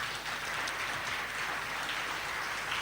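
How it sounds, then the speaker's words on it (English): An audience at a national dialogue on gender-based violence protection centres in Kenya claps for speakers who shared their experiences, a dense, even patter of applause that continues at a steady level, with no distinct voices above it. "Let's just clap for them."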